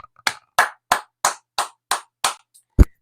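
Hands clap in applause for a referee: eight sharp, evenly spaced claps from a single nearby pair of hands, with silence between them and no talk.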